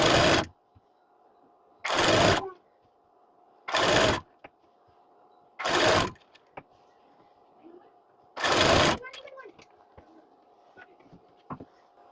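A sewing machine stitches the side seam joining a blouse body to its sleeve at a half-inch margin, running in five short, even bursts separated by quiet pauses with faint clicks between.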